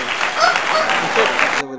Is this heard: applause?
yes